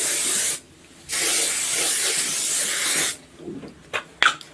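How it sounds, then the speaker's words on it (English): Colour Well Shine hair spray hisses out in two long, close bursts, each about two seconds, followed by a few faint rustles and handling sounds. "The spray I always use, so it's the Colour Well Shine Spray."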